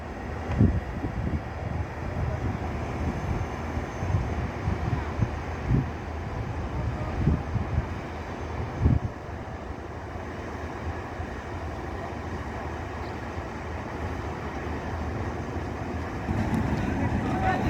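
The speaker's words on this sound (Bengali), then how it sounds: "ইঞ্জিন স্টার্ট দিয়ে দিছে আমরা দেখতে পারছি শব্দ শোনা যাচ্ছে" A river trawler's engine carrying cattle and goats across a river runs with a steady, low droning rumble that holds for the whole stretch, with wind buffeting the microphone and faint voices in the background.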